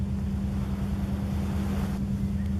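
Ship under way near Deception Island, Antarctica, sailing through a narrow gap, giving a steady low engine drone with broadband wind and water rush throughout, no voices.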